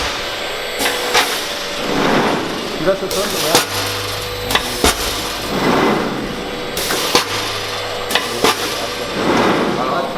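A cup making machine on a CUP 4x1 or 4x2 production line runs with repeated heavy pneumatic thumps and clanks over a constant mechanical hum, loud and close, with a brief spoken remark in the background.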